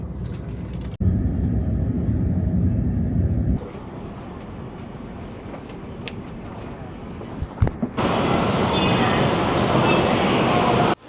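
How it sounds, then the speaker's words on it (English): Steady rumble of a high-speed train interior during a long journey in China, a continuous low roar with shifting intensity and a brief clack partway through, ending in a brighter, louder rushing noise. "it's hours on a high-speed train, surrounded by strangers"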